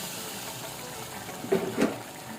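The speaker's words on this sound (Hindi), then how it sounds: "ये पानी डालने जा रही हूँ, बस चावलों से थोड़े से ऊपर रखने हैं हमने पानी" Water pours into soaked basmati rice and peas in a cooking pot, a soft, close trickle with a couple of brief splashy surges.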